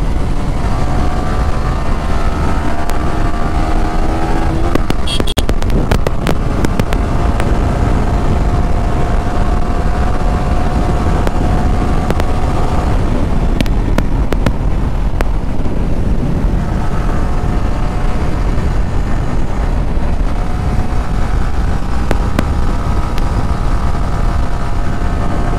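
Yamaha MT15 motorcycle on a village ride, steady engine drone heavily mixed with wind buffeting at the microphone, continuous and loud throughout with a brief rattle of noise early on.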